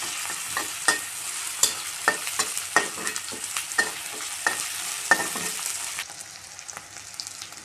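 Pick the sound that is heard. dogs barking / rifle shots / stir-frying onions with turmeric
stir-frying onions with turmeric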